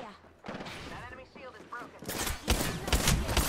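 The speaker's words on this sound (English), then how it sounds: "I'm getting shot in the back" Video game gunfire: bursts of rapid shots come in over a voice talking, getting louder and denser toward the end.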